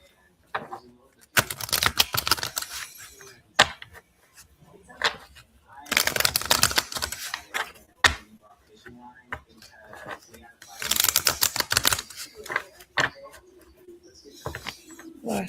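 Tarot cards shuffled by hand in three crisp riffling bursts, each lasting a second or two, separated by quieter pauses with a few soft taps and card flicks.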